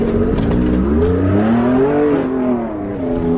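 A 2019 Ford Raptor truck on new wider wheels and a lift accelerates hard off-road, its engine revving loud and close with rising and falling pitch for several seconds, no talk.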